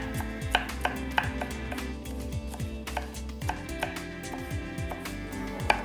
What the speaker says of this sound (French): Je coupe la partie extérieure de l'aubergine, c'est qu'ensuite je vais les recouper en brunoise.